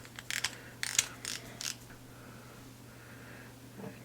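Small clicking and ratcheting taps as a tensioner knob is unscrewed from a Lew's baitcasting reel, a few quick close bursts followed by quiet.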